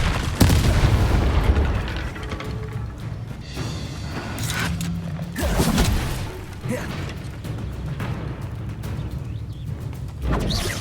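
A Confringo spell in Hogwarts Legacy bursts into several booming explosive impacts amid a magical duel, with scattered thuds and crackling blasts and brief shouted voices between them.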